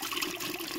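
Tap water running steadily into an outdoor DIY pool heater setup after flowing for a while, a continuous close hiss of pouring water with no voices.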